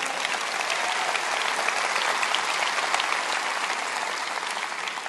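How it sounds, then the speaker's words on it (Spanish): Steady, dense applause from a church congregation during a Christian sermon, sustained and even throughout with no break or voice over it. "Dales un buen aplauso."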